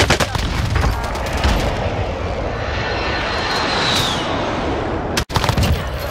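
A precision airstrike in Call of Duty: Warzone: loud aircraft engines roar overhead amid rapid gunfire and blasts, a jet sweeping past before the barrage cuts off abruptly near the end, then resumes.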